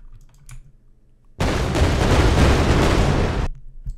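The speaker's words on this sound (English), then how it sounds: "Explosion cue." An Unreal Engine 4 explosion sound effect cue for a radial menu selection: a sudden loud, dense roaring burst that holds for about two seconds and then cuts off abruptly.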